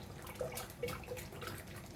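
Water poured from a tap into a pot of sticky jackfruit jam, a faint splashing trickle with a few soft drips and gurgles, quiet and close.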